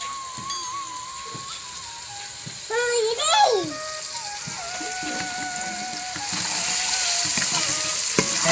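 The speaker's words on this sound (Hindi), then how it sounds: "है जी अब मसाला तड़का है।" A masala tadka for chole sizzles and fries steadily in a pan, close and continuous, with stirring clinks and a voice speaking briefly over it; the sizzle grows louder toward the end.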